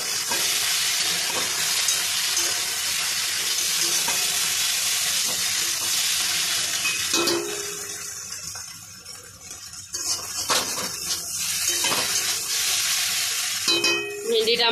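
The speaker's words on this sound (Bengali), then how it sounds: "ভেন্ডিটা আমার ভাজা হয়ে গেছে" Okra fries in a hot pan with a steady, loud sizzle, broken by scraping stirs of a spatula and brief dips as the frying settles, close and without talk.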